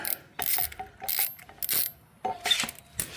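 A T30 Torx bit works a bolt loose on a 2017 BMW F800GS motorcycle during wheel removal, giving repeated bursts of metallic ratcheting clicks, close and moderately loud, with short pauses between turns.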